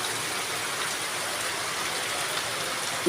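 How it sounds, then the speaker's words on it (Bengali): Continuous rain falls onto a flooded field as an even, steady wash of noise, constant from start to finish. "অবিরাম বৃষ্টি চলছে।"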